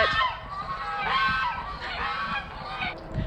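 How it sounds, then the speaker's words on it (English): Domestic geese honking loudly and repeatedly in a backyard flock, overlapping calls close by with no talk, on a wet, cold day. "The geese are not gonna let me film."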